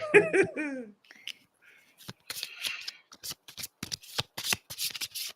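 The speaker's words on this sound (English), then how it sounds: "I shuffle the cards." A brief giggle, then a deck of playing cards is riffle-shuffled in quick, crisp bursts of fluttering snaps, close by.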